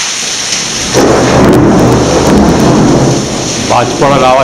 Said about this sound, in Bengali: বাজ পড়ার আওয়াজ শুনতে পাচ্ছি।